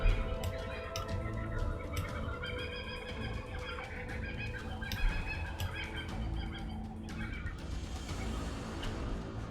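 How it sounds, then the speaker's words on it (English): Kookaburras call in the background, heard as a dense, repeated rising-and-falling chorus of raucous bird cries that keeps going throughout. "Kookaburra's in the background."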